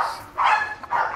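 A dominant dog that gets no exercise barks in two loud, close bursts separated by a short pause.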